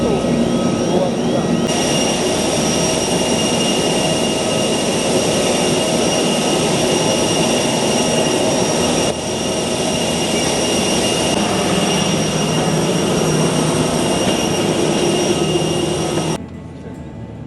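A large airplane's jet engines whine and roar loudly and continuously on the airport apron, a steady high-pitched tone over broad rumbling, dropping slightly at the end; a voice speaks briefly over the noise.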